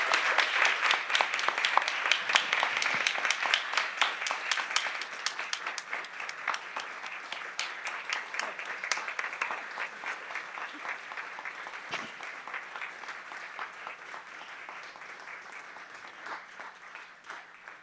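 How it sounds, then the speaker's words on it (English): Sustained applause from an audience at a school board meeting honoring retirees: many hands clapping steadily and fairly loud at first, gradually thinning and fading over nearly eighteen seconds, with no talk. "If we can have a round of applause for all of our retirees who are here tonight"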